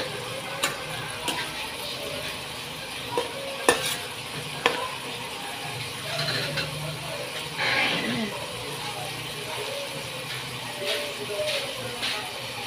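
Sautéed string beans are stirred in a hot pan, with scattered scrapes and clinks of a utensil over a low sizzle and soft background noise, no speech.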